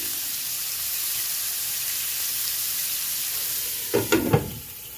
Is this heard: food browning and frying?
yes